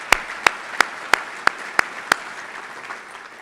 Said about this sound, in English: Let's give Matt and his team at Three Pillars another round of applause